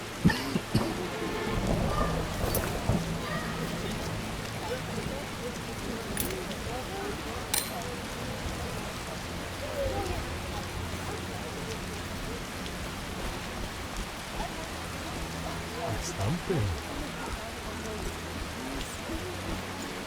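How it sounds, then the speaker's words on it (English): Steady, dense rainfall in The Witcher video game, pattering evenly throughout with faint low rumbles and occasional muffled voices beneath the downpour. "Rains and it pours."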